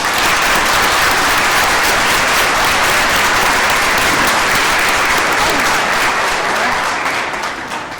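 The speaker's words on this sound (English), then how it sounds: "If we could have a big round of applause." Sustained, dense applause from a large graduation ceremony audience, loud and steady for several seconds before tapering slightly at the end, with no speech over it.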